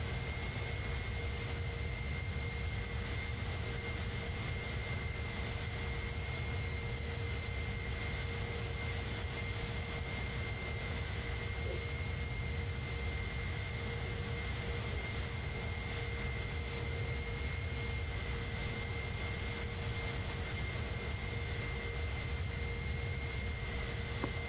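Engines of the iniBuilds A310 airliner in Microsoft Flight Simulator 2020 on a Belgrade to Istanbul flight, a constant, fairly quiet broadband roar with two steady tonal whines running unchanged throughout, no voices.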